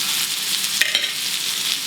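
Meat sizzling in a smoking hot pan, a loud, steady, close hiss of frying that carries on evenly, with a couple of brief sharper crackles partway through.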